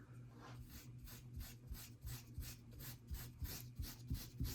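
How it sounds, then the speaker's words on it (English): Antique finish being rubbed by hand onto stamped, tooled leather, a faint rhythmic series of scratchy strokes repeating roughly every half second, close and alone without talk. "on these top portions where these crosses are from the geometric stamp, you can kind of rub it on there"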